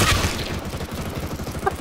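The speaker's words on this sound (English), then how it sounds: "Flashbang." A flashbang grenade going off in a video game, a dense loud burst of noise that fills the whole short moment with a rumbling, crackling wash.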